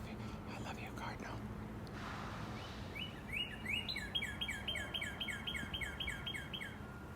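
A northern cardinal sings a repeated series of clear, rising whistled chirps, about a dozen notes in a steady rhythm, over a constant outdoor background hiss and hum.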